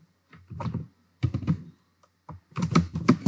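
Typing a git commit message on a computer keyboard: three separate bursts of dull, thumping keystrokes up close, broken by short silences, with no speech.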